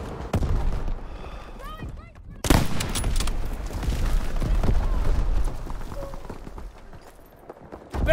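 Call of Duty WWII battle gunfire crackles in rapid bursts and scattered shots, with a sharp loud volley midway and ongoing firing and explosions behind shouted voices.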